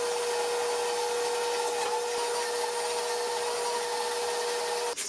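A KitchenAid 6 Qt Professional 600 stand mixer creaming softened butter with white and brown sugar, a steady, even motor whir that runs unbroken throughout, with a brief dip near the end.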